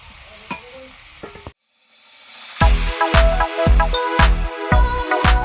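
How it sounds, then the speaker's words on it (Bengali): Spice masala with salt, turmeric and chilli powder sautéing in a pan for a crab muri ghonto, a quiet start, a brief silence, then loud, rhythmic spatula scrapes over a strong sizzle. "মশলা কষানো হয়ে গেছে, এবার জল দেবো।"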